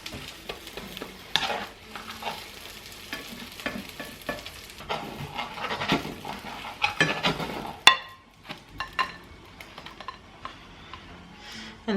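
Eggs and cheese cooking in a pot make a steady close sizzle with irregular stirring scrapes and a few light clinks, and one sharper knock near the end before the frying quietens.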